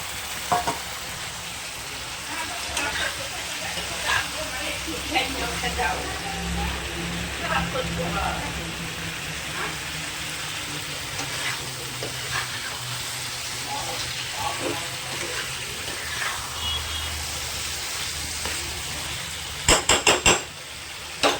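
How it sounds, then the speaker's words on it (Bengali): Fried potatoes are stirred into spice masala in a pan for a Bengali fish-and-potato dish, giving a steady sizzle and frying crackle with spatula scrapes and occasional clinks against the pan. A voice talks over it, and a few sharper knocks come near the end. "আলু দিয়ে একটু ভালো করে কষিয়ে নেবো"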